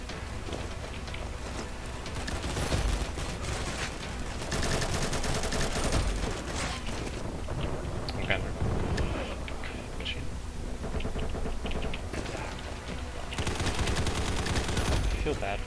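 Rapid M4 rifle fire in the video game Combat Master, repeated bursts of sharp gunshots crackling loudly across the clip with brief pauses between volleys.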